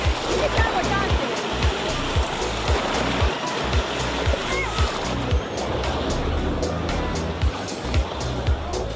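A wave pool imitating sea waves at a warm thermal spa fills the space with a loud, steady wash of churning, splashing water and rhythmic surges, with crowd noise blended underneath.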